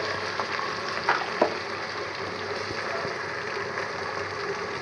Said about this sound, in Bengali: একটু সুন্দর করে ভাজা ভাজা করি